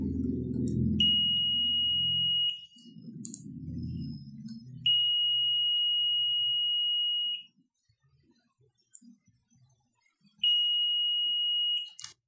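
A multimeter gives continuity check beeps on a homemade etched printed circuit board: three sustained, high electronic tones with quiet gaps between them, plus soft handling rustle near the start.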